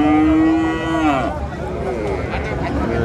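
A desi bull at a cattle market gives one long, loud, close moo that bends downward at the end, followed by busy market noise and voices.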